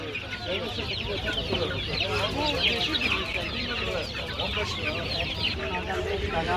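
A dense flock of chickens and roosters clucks and calls all at once, loud and close, with a constant overlapping farmyard chatter, at a poultry market in Adana.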